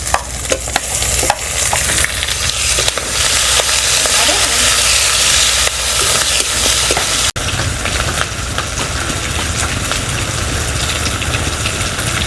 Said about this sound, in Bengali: এইবারে দিয়ে দেবো টমেটো কুচি।